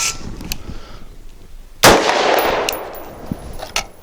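A DSI Variant 1 pistol fires a sharp, loud shot that rings into a long echoing decay, with a few fainter clicks and metallic knocks of handling before and after.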